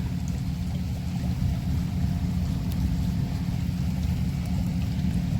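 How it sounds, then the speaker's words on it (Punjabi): Electric water pump motor running to irrigate a garlic field, giving off a loud, constant low rumble with a faint watery hiss and no break or change throughout. "ਇਧਰ ਆਪਾਂ ਚਲਾਤੀ ਮੋਟਰ ਲੋਸਣ ਰਮਾਉਣ ਵਾਸਤੇ"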